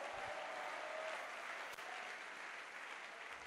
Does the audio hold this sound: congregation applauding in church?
yes